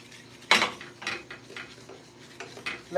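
Caramel being stirred in a pot, with a sharp utensil clank against the metal followed by irregular lighter scrapes and clinks, close and without talk.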